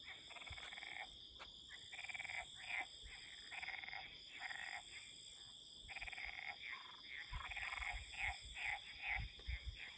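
Many frogs call in a dense chorus on Crete, rapid croaking pulses overlapping continuously, with a steady high insect-like drone behind them.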